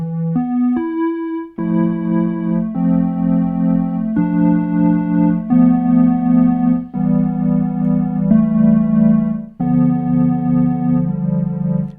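Synthesizer run through a June-60 chorus pedal, playing a string of sustained, richly harmonic notes that blend smoothly with brief breaks, loud and close and free of talk.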